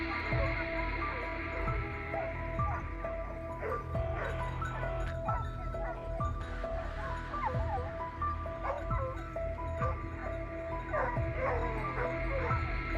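Professional hunting dogs bark and yip at a wild boar hiding in thick brush on a Texas hillside, heard at a distance and in quick repeated bursts over a steady low hum.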